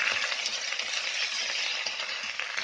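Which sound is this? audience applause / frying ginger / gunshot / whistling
frying ginger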